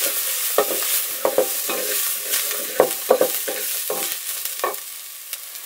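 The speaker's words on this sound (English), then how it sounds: "When the onions are half done, put in the carrot tops." Onions and carrot tops frying in a pan for a marinara sauce, a steady sizzle broken by repeated scraping stirs at an uneven rhythm, close and clear with no talking.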